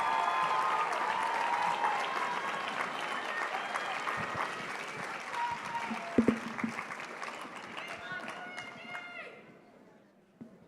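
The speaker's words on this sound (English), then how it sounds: "It's a big round of applause for Jameson." A big round of applause at a live memorial gathering for survivors of loss, steady crowd clapping that fades toward the end, with speech and a few thumps mixed in before it trails off into quiet.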